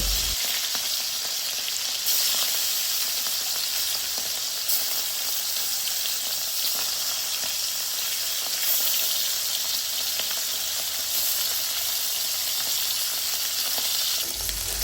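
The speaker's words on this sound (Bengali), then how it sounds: "আমি এক এক করে সমস্ত মাছগুলো এই তেলের মধ্যে দিয়ে ভেজে নেব" Small marinated fish fry in hot oil in a wok, a loud, continuous, even sizzle with crackling spatter that holds steady throughout, close up and with no voices.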